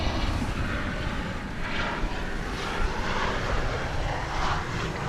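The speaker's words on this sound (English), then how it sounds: "Here's an arriving flight from Austin, Texas, a 737-800." A Boeing 737-800 arriving at Dallas Fort Worth airport on a flight from Austin, Texas, makes a steady, broad jet roar at moderate distance that holds through the whole stretch with no voices.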